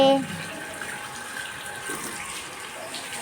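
Water runs steadily from a tap at a home, giving a soft, continuous hiss and splash that stays fairly faint while someone talks over it.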